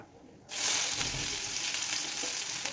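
Chopped onion hitting hot mustard oil in a wok, a sudden loud burst of sizzling that starts after a moment of quiet and then carries on as a steady, close frying hiss with no talking.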